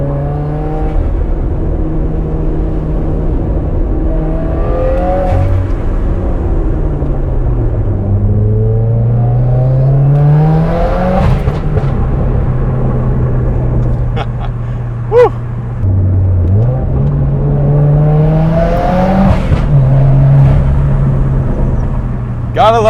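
A 380 WHP Subaru WRX engine revs and drones up and down through the gears on a winding canyon road, loud and close throughout, with rising and falling pitch sweeps and brief pauses between pulls.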